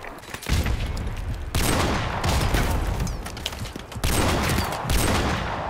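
Shooter video game combat: bursts of rapid gunfire and heavy grenade blasts, loud and close, with three sharp explosive onsets cutting in over sustained rattling fire.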